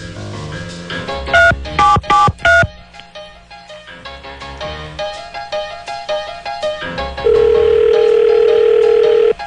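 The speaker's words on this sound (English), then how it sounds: "Dialing them up." A telephone keypad dials out in loud, clipped DTMF beeps, first a quick cluster of tones, then a longer string of fainter ones, ending in a steady, sustained line tone.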